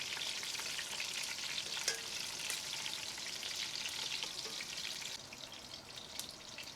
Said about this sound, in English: You need to maneuver the pot a bit, like I'm doing here, to get them to brown on all sides.